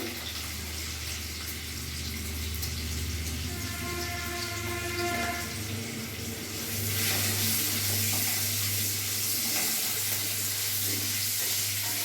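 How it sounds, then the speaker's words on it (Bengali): Cut potatoes with salt and turmeric sizzle steadily in hot oil, a continuous close frying hiss that swells louder partway through, with no one talking. "ততক্ষণ আমার এটা একটু ভাজা হোক"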